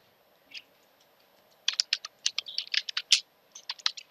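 A computer keyboard tapped in quick bursts while entering a terminal install command on Ubuntu 16.04, crisp close keystrokes after a brief pause, with no talking.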